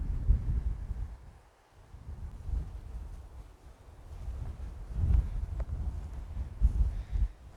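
Gusty wind blows on an open hilltop of fields and outcrops, buffeting the microphone with low rumbling gusts that rise and fall unevenly. It is moderately loud throughout and no one talks.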